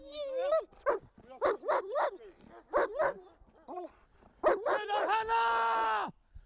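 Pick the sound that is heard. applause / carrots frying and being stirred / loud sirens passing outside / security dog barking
security dog barking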